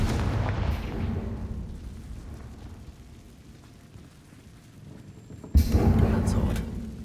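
A Confringo fire-blast spell explodes in Hogwarts Legacy: a sudden loud burst near the end breaks a quiet, low rumbling stretch of game ambience, with a brief spoken voice earlier.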